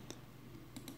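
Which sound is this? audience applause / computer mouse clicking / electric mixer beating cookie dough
computer mouse clicking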